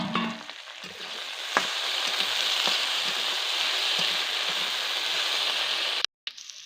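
Potatoes frying in a pan for an Odia breakfast dish, a steady loud sizzle with crackling that runs continuously, then cuts out abruptly near the end.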